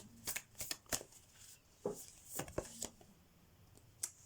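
Moonology oracle cards shuffled by hand, a series of soft, quick riffling snaps in irregular bursts, close and quiet with faint room background.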